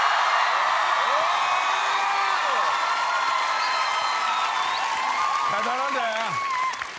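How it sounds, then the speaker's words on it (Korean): Studio audience of a Korean TV comedy show claps and cheers to vote for a performer, a steady wash of applause with voices talking over it throughout. "우리 윤형빈이 패션 70810에 남았으면 좋겠다 박수 한번 주세요"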